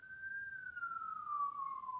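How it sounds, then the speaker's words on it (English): A single siren wails faintly in the distance, its tone sliding slowly downward over a couple of seconds. "Hey, look, sirens."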